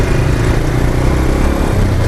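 Dense street traffic in Caloocan rumbles loudly and continuously, with motorcycle engines droning and revving among cars in a close, steady wash of noise.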